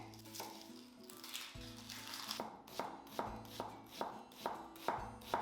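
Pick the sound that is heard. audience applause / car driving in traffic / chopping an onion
chopping an onion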